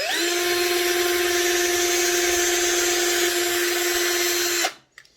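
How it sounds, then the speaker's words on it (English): A small power drill bores a hole for an M2 screw in a Hornby Class 253 HST Intercity 125 model train, a steady high-pitched whine held close for several seconds before stopping abruptly. "We'll drill another hole for an M2 screw."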